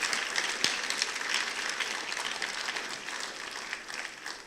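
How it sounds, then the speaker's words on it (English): A crowd gives a round of applause for three finalists at a humanitarian award event in Armenia. The clapping is full and continuous and eases slightly toward the end, with no talk over it. "So let's start with a round of applause for the 3 finalists."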